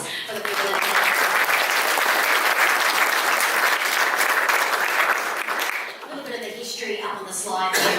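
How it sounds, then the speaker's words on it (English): An audience at the opening of a university 3 Minute Thesis grand final breaks into loud, sustained applause that runs for about five seconds before fading, followed by someone talking. "can we have another round of applause for the people"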